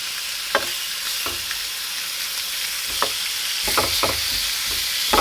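Prosciutto and mushrooms fry in a pan with a steady, close sizzle, broken by occasional scrapes and knocks of stirring.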